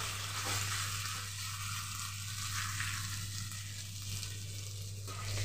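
Two pieces of fish, with fried fish heads broken up, fry in spiced oil in a pan, giving a soft, even sizzle under a low steady hum, with no talking.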